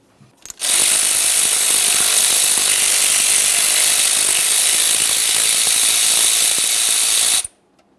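A hand ratchet works loose the 10mm mounting bolts on the serpentine belt tensioner of a 1994-2001 Dodge Ram 1500, giving one steady, close, loud run of clicking that lasts about seven seconds with no talking.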